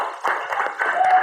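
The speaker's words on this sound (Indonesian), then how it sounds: "Oke, tepuk tangan untuk kita semuanya." Pupils in a fifth-grade religious-studies classroom break into a short burst of clapping, with young voices mixed into the applause throughout the brief moment.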